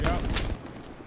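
A frag grenade blast in the WW2 video game Hell Let Loose, a heavy low boom at the start that cuts off quickly into quieter battlefield noise.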